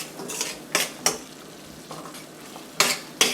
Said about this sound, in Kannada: ಇದನ್ನೇನು ಹುರಿಬೇಕಾಗಿಲ್ಲ, ಸುಮ್ಮನೆ ಮಿಕ್ಸ್ ಮಾಡ್ತಾ ಇದ್ದೀನಿ ಅಷ್ಟೇ